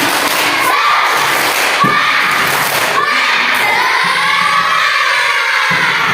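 Schoolchildren in a classroom do a spirit clap, their clapping and shouting coming together in a loud, busy burst with a few sharp thumps and no quiet gaps.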